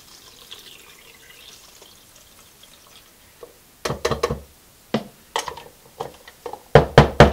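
Liquid film developer is poured into a developing tank for color film at home, heard as near gurgling splashes and clunks in irregular bursts that grow louder toward the end after a quiet start.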